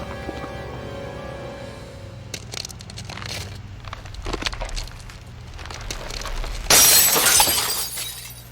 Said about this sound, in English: He broke the glass.